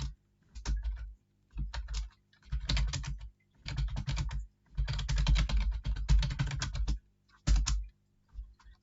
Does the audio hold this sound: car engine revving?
no